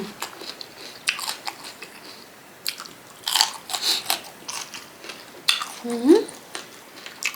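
Crisp bites and chewing on crunchy raw vegetables and crispy pork cheek eaten with papaya salad, close and irregular, with a few louder crunches and clinks of utensils among quiet mouth sounds.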